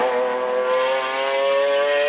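A McLaren F1 engine roaring, a steady high-pitched sustained drone with strong harmonic whine, loud and continuous with no talking.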